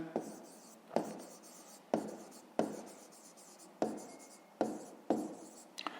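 A pen writes on paper during a fifth-grade math exercise in a series of distinct scratchy strokes, each with a sharp start that fades. The strokes are close and regular, with no one speaking.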